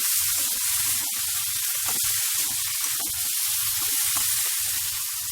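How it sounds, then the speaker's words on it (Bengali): Spice paste and peas are sautéed in a pan, giving a steady, loud hiss of frying with a bubbling, sputtering texture throughout and no voices. "মশলাটার সাথে মটরগুলো পুরো কষিয়ে নিয়েছি"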